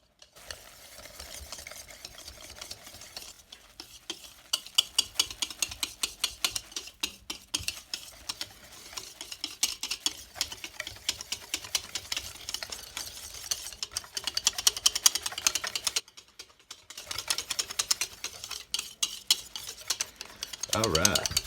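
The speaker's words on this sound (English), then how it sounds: "Get a whisk and whisk her up." Batter made with club soda is whisked briskly in a bowl, a rapid rhythmic clatter of wire against the bowl that runs for long stretches with short pauses, close and steady.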